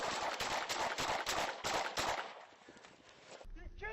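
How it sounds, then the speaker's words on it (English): Gunshots caught on a police body camera: a rapid string of loud, sharp cracks in close succession that fills the first two seconds, then quiets into muffled rustling and a brief voice. "5 shots fired."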